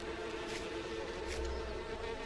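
Bees buzz in the farming game Farming Simulator 19 in a steady, close, continuous drone with a low hum underneath, no talk over it.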